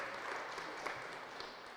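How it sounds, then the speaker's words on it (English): A crowd at an agreement signing ceremony applauds with steady, dense clapping that fills the short moment evenly, sounding somewhat distant. "Let's give them all a round of applause"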